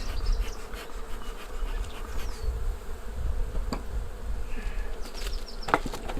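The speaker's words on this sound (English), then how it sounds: "Happy bees." Steady buzzing of many honeybees at an open beehive fills the air, a close, continuous hum with occasional louder passes near the microphone and faint clicks.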